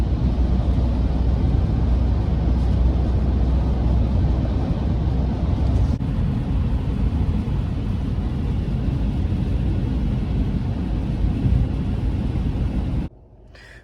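Ford Maverick cruising on the highway, a loud, continuous low road-and-engine rumble with steady wind noise, cutting off abruptly near the end.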